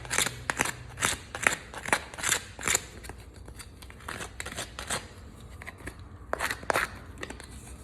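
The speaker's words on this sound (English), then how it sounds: "just kind of ream out the inside of it so you pull off any burrs, because we want it to be nice and flat" Reaming tool scraping burrs from the inside edge of a freshly cut pipe, a series of short sharp scraping strokes in uneven rhythm, close and alone.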